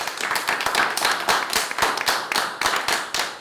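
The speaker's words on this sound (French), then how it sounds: "Applaudissez-les." An audience applauds contestants as they are introduced, brisk close clapping with individual sharp hand claps standing out over a steady ovation.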